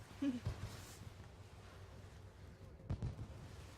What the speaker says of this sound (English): So we're watching the fireworks.